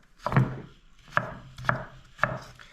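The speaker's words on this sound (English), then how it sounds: "You want to cut the potatoes" Knife chopping potatoes into small pieces on a cutting board, four distinct close thuds spaced about a second apart, loud and alone with no voices.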